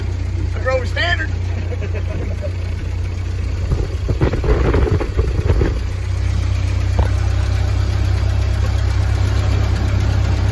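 A Ford Model A car engine runs steadily at idle as a low, continuous rumble, with a short burst of louder mechanical noise midway; voices briefly speak near the start.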